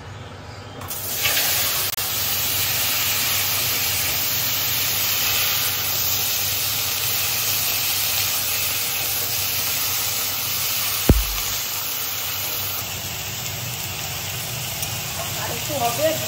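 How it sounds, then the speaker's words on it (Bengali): Banana pieces fry in hot oil in a village kitchen, giving a steady, continuous sizzling hiss with a single sharp clunk partway through. "তেলেই আমি কলাটা ভেজে নেবো।"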